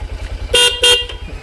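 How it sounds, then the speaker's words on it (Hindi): A Bajaj CT 100 motorcycle horn gives two short, loud toots in quick succession over the low idle of the bike's engine, heard up close. "हॉर्न भी बताइए हॉर्न"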